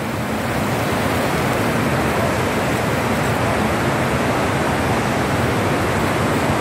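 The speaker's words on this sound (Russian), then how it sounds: "она прям буйная речка. Прям буйная. Ну, так шумит." A fast mountain river near Doodhpathri, Srinagar rushes in a steady, loud, unbroken roar of churning water heard close up, with no voices.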